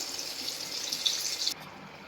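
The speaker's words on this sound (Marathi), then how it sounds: "बघू शकता छान तळले जात आहे" Chickpeas sizzle in hot oil with a steady, bright hiss that stops abruptly near the end.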